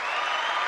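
Brief burst of crowd applause on The Sully Show, a live show, a dense steady patter of clapping hands with no voices over it.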